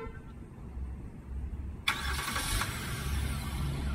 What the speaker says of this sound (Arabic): طيب الان تشغيل السياره الان